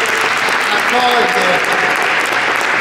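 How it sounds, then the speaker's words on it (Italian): Audience in a hall at the Maschio Angioino in Naples applauds the City of Naples during an award ceremony, dense continuous clapping with a voice speaking over it. "Ancora una volta vogliamo fare un applauso al Comune di Napoli"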